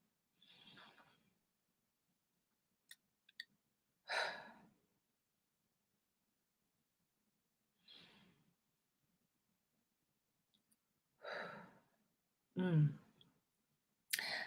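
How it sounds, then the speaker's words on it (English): A few separate deep breaths, slow inhales and exhales spaced apart by long silences, close and soft, with faint clicks between them and no words. "Can we take a collective breath together?"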